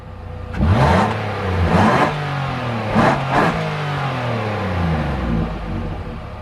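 A McLaren 3.5-liter V6, run without turbos, revs hard in several sharp blips, each pitch sweep rising and falling, close and loud with no talk over it.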